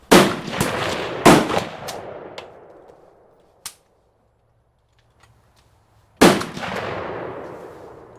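A Panzer Arms BP-12 shotgun fires four loud, sharp blasts with echoing tails: two close together, a lone shot after a pause, then a final blast following a quiet gap.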